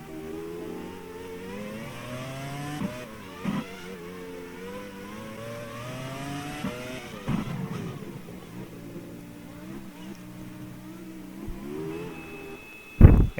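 Formula One cars in a racing game rolling into the pit lane, engines droning and changing pitch as they slow down, with a sharp loud burst right at the end and no talk.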